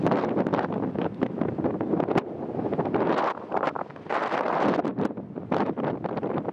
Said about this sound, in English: it's getting crazy windy out here, so I don't know how much you can hear